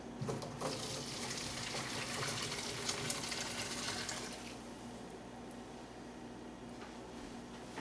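Liquid from a hot pan of au jus poured through a fine mesh strainer into a bowl, a steady close gushing splash that thins to a quieter trickle partway through, with no talking.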